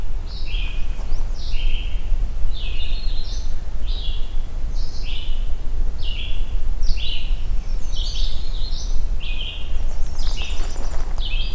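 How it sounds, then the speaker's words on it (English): A pine warbler sings in the woods on an overcast morning, repeating short, high, bright phrases in a steady series over about ten seconds against a quiet low outdoor hum. "So there's the pine warbler."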